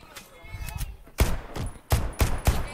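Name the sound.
gunfire in a video game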